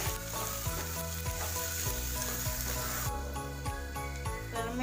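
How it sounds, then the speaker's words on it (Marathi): Turmeric, coriander powder and homemade masala fry in oil for street-style egg bhurji, a steady sizzle under loud rhythmic background music with a regular beat. "ते पण छान फ्राय करून घेऊया।"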